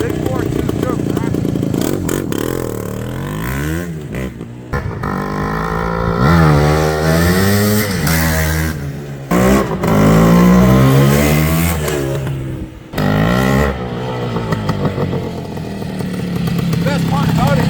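A restored 1973 Yamaha RT1 360 two-stroke motorcycle engine with a high-performance kit revs repeatedly, rising and falling in loud, close bursts with brief drops to idle between throttle blips.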